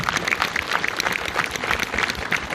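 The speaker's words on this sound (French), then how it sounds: "je voudrais tous qu'on applaudisse ensemble Laurent Baffy" An audience at a film premiere applauds actor Laurent Baffy, dense steady clapping from many hands filling the room without pause.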